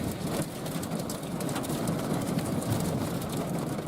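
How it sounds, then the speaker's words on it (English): Small hail, pea to nickel size, pelting down in a storm with gusty wind, a steady dense patter like heavy sleet that stays loud and constant throughout, with no voices. "Not large hail, but it sounds like sleet. Or a little bit bigger than sleet."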